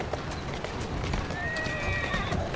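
A horse-drawn carriage driven in the Assassin's Creed Syndicate video game, steady clip-clop of hooves under rumbling wheels, with a brief whinny rising in the middle of the continuous mix.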